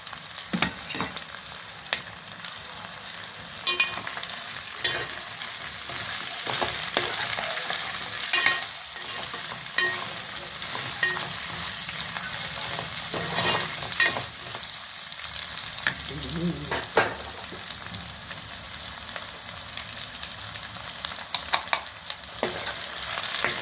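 Radish pieces, cut into thick chunks, frying and sizzling in a pan for an Andhra fish curry, a steady close crackle with occasional stirring scrapes throughout.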